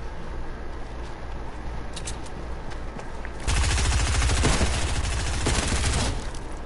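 Bursts of automatic gunfire from a first-person shooter match crackle loud and close after about three and a half seconds, following quieter scattered game noise with a few faint earlier shots.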